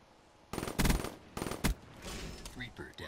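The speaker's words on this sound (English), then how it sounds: "Who the heck is shooting their gun?" Bursts of automatic gunfire ring out during a Black Ops 3 Search and Destroy match, two loud volleys close together followed by fainter shots and game effects.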